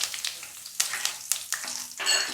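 Curry leaves and asafoetida sizzling in hot oil for lemon pickle in a rustic kitchen, giving a bright, close crackling hiss with several sharp spits and pops over a few seconds.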